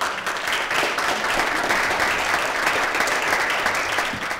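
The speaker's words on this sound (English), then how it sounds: "So let's give a round of applause." Audience at a media panel gives a steady round of applause, dense continuous clapping from many hands filling the room at moderate loudness, with no talk over it.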